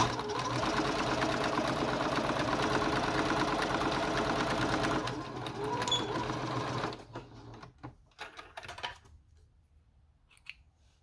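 A sewing machine stitches a quarter-inch seam on a wide fabric headband, running steadily and loud for about five seconds, then stopping, with a few quieter handling clicks and rustles afterward.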